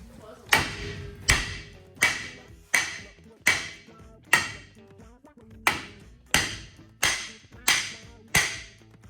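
Eleven loud metallic hammer blows on a 1966 Chevrolet Chevelle's brake drum ring out at a steady, deliberate pace, each clang decaying with a resonant ring.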